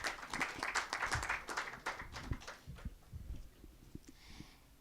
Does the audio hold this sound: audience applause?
yes